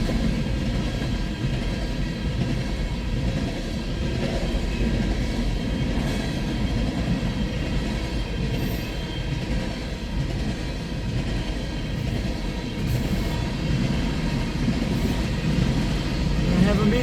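A CN freight train rolls steadily past, its rear EMD rebuild locomotive droning low beneath continuous wheel rumble and faint clickety-clack, loud and close throughout with little change in level.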